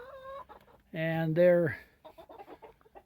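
Farmyard chickens cluck and make a drawn-out call close by, while someone speaks briefly around the birds.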